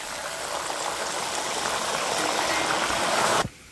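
Banana chips fry in hot oil with a loud, dense, steady hiss that holds for a few seconds and then cuts off abruptly near the end.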